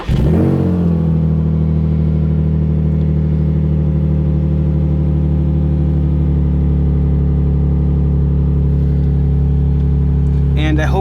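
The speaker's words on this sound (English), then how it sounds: "This is the exhaust that I had on the blue 350Z when I bought it, and this one's quite a bit louder" A Nissan 350Z idles through a loud aftermarket exhaust, a deep steady droning rumble right up close that holds for several seconds after starting, with a brief noisy burst near the end; the car has a reported misfire.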